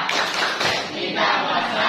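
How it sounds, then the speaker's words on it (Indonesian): Classroom of students clapping in time to a spoken rhythmic chant, brief bursts of claps mixed with group voices. "Tepuk bahasa."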